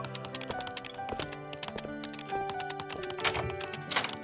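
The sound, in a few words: computer keyboard typing, from a video game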